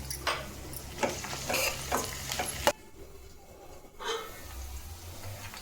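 Onion, green chili and curry leaves frying in a pan with stirring strokes, a steady close sizzle for almost three seconds that drops to a quieter crackle, then a brief scrape of the spoon.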